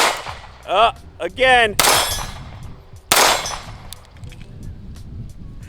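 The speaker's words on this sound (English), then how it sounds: "I can't stop shooting." Two sharp, loud, close pistol shots from a handgun fitted with a Monsoon Tactical Genghis Komp compensator. Each shot rings and decays. Brief talk and other noises come between them.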